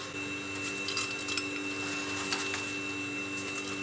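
A vacuum sealer pump runs steadily while sealing quart jars of freeze-dried cherry tomatoes, giving a continuous close motor hum with a few faint clinks on top.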